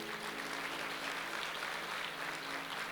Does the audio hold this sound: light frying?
no